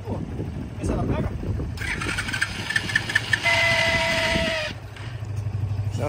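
A mini motorcycle engine catches after attempts and idles with a buzzing, uneven rattle, revving briefly before settling, with people talking close by before and after.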